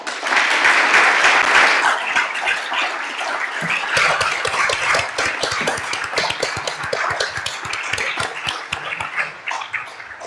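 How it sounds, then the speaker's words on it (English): A crowd applauds loudly and steadily, a dense wash of many hands clapping that continues throughout without any talking. "I think the intensity of this applause tells how grateful we are for your contribution today, Mikkel."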